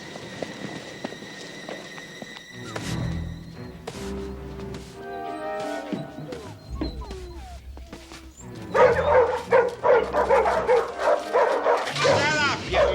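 Dogs in a dog pound bark and yip in a rapid, busy cluster near the end, following quieter stretches with music and voices talking.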